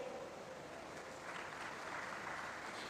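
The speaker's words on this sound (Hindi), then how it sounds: "तालियां थोड़ा और बजें तो संगीत का आभास होगा।" Crowd applause fills a hall at an appointment-letter ceremony for UP Police telecommunications assistant operators and workshop staff, a steady patter of clapping at moderate distance.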